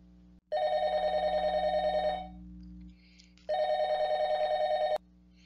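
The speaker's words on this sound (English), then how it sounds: "when the phone rang." An old-fashioned telephone bell rings in two long trilling bursts separated by a pause, loud and close in a quiet home with no talking.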